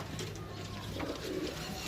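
A pigeon coos softly a couple of times against a hum of low background noise.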